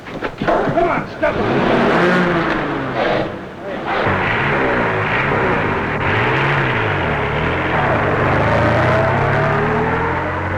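A motor vehicle engine roars loudly during a chase, revving and surging with pitch sweeps as it speeds past, while voices and commotion sound over it.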